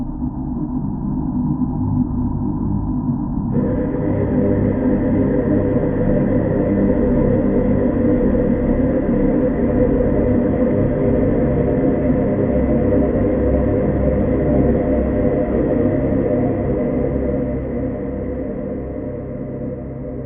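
A VirSyn Poseidon synthesizer on an iPad plays a sustained, dense drone with a big, long reverb tail, steady and loud throughout and thinning slightly near the end.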